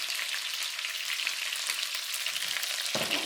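A cinnamon stick and green onion fry with pork riblets in a pan, giving a loud, steady close-up sizzle with a brief stir or shift near the end and no talking.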